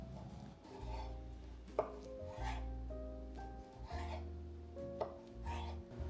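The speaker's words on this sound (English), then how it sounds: "And lastly, I'm cutting the pickles. Just cutting off the backs first." A knife cuts through large pickles on a board, the backs trimmed off first. Several distinct, fairly quiet chopping knocks and scrapes come at an uneven pace under a low, steady hum of background music.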